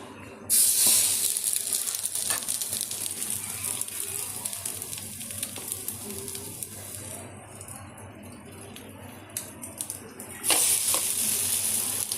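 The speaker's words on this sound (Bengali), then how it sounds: "এখানে পাউরুটিগুলোকে ডিমে এরকমভাবে ডিপ করে চাটুতে দিয়ে দেবো" Egg-dipped bread slices frying in white oil on a griddle give a steady, moderately loud sizzle and hiss throughout, with brief bursts of sharper spitting near the start and end.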